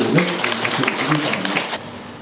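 Applause breaks out at a gallery exhibition opening for Buddhist stone carvings, steady clapping from a gathered crowd while a voice speaks over it.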